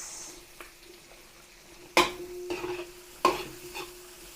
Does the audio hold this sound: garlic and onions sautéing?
yes